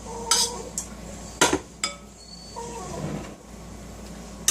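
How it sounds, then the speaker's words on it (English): Keto cauliflower cheese mixture stirred in a dish, with a few sharp utensil clinks and scrapes followed by a softer, quieter stirring, close by and with no talking. "And give it a stir."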